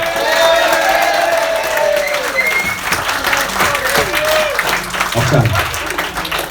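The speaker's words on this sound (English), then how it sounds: "Can we get a big round of applause for Scott," Wedding guests applauding and cheering at the reception, sustained clapping with a few whoops and scattered voices, and a brief spoken word over it.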